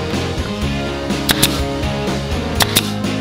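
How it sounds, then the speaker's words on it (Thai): A nail gun fires nails into a wooden frame for a minimal Japanese-style house door, giving two pairs of sharp, close snaps over a steady background hum. "ยิงตะปูครบหมดแล้วนะ"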